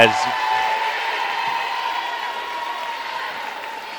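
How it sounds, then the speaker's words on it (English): A crowd gives a standing ovation for seniors leaving the floor on senior night of a women's basketball game at Reed Family Gym. The applause and crowd noise hold steady, dense and even throughout, with a faint tonal hum beneath. "as Rayleigh McDonald hears it from the crowd here on senior night at Reed Family Gym, as all the seniors so far have been removed from the game from a rounding ovation"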